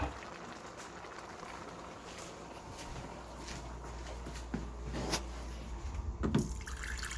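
Natural spring water, such as Poland Spring, is poured into a container, making a steady trickling, splashing flow that grows a little louder and gurglier toward the end.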